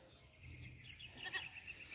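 A goat being ridden bleats in short, wavering calls toward the end, with farmyard background noise and no speech over it.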